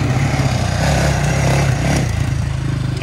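A low-slung ATV quad engine drones steadily while spinning donuts, loud and close with a continuous rumbling roar across the whole stretch.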